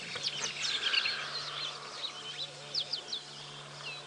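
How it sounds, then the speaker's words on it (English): A dense outdoor chorus of birds, including weavers, chirping and twittering at a dam waterhole at sunrise on Cheetah Plains, several calling at once with quick repeated trills, over a faint steady hum. "And the bird life is going ballistic."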